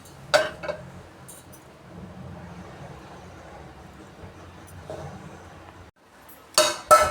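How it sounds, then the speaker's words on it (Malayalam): A lid goes onto a pan of carrot and bean stir-fry, with a couple of metallic clinks at the start, a low quiet hum in between, and a sharper clatter as it settles at the end. "ഇനി ഇത് അടച്ചു വെച്ച് ഒരു വേവുന്നത് വരെ ഒരു അഞ്ചോ പത്തോ മിനിറ്റ് നീര് വെച്ച് അടച്ചു വെക്കാം"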